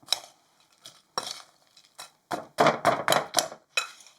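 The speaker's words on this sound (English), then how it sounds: "Let's stir it up." Seasoned potatoes O'Brien with paprika and salt being stirred in a bowl, giving a string of close scraping clinks from a utensil, sparse at first and then quick and steady, with no talking.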